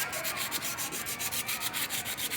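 A fan coil unit's shaft is sanded by hand before a bearing is fitted, producing rapid, regular back-and-forth scratchy rubbing strokes, close and steady, with no speech.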